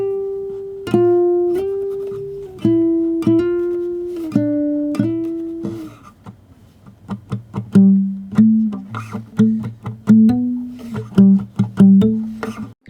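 Guitar melody in a lo-fi beat with the low end cut, plucked single notes played alone, first a slow phrase of sustained notes, then a quicker, softer run of short picked notes.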